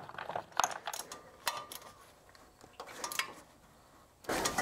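Ratchet wrench tightening a part on a WW2 Jeep during overheating repair work, a series of short sharp clicking bursts near and fairly loud, with a brief rougher burst at the end.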